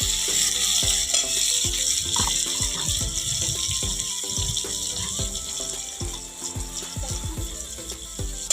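Oil with salt frying in a pan before eggplant goes in: a steady bright hiss runs throughout, broken by metallic clinks and knocks of a utensil against the pan, with no voices.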